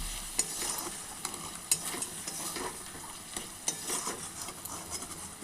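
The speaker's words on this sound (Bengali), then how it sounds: "এবার সুন্দর করে নাড়াচাড়া করব।" Soybean curry with cumin, chilli and turmeric powder is stirred in a pan, giving a soft continuous sizzle with scraping and occasional sharper clicks of a spoon against the pan.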